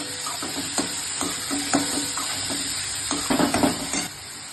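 Onion, tomato and green chili frying in a pan for a Sindhi-style lotus root dish, a steady sizzle broken by repeated scraping stirs and clinks of a utensil against the pan, close and fairly loud.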